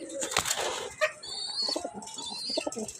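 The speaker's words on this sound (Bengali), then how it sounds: "অনেক ছটপড়া কবুতর, অনেক ছটপড়া।" Budapest racing pigeons beat their wings close by in a few short flapping bursts, with soft cooing and faint chirps between them.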